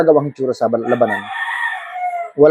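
A game fowl rooster crows once, loud and close, in a long drawn-out cock-a-doodle-doo that rises and then holds, with clucking just before and a voice at the very end.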